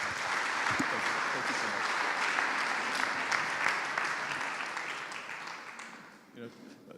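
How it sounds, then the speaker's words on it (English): A seated audience at an entrepreneurship community event in Berlin applauds to welcome a keynote speaker, a dense sustained round of clapping that slowly fades out near the end. "So giving him another hand of applause."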